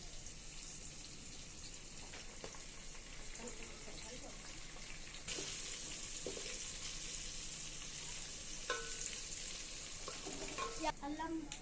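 Mint and bay leaves sizzling in hot oil for biryani, a steady hiss that thickens partway through, with occasional clinks and stirring scrapes and no talk.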